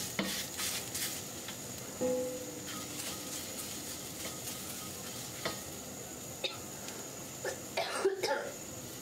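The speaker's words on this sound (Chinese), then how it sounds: "一直把辣椒炒到表皮稍微有些虎皮状的时候" Chili peppers are stir-fried in a pan with salt and pressed down with a spatula. A soft, steady sizzle sits under occasional spatula scrapes and clatters, and someone coughs a few times.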